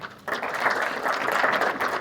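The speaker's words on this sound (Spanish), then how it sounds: "Un fuerte aplauso." An audience at a cybersecurity conference breaks into steady applause that starts abruptly and holds as a dense, even patter of clapping hands without any talk.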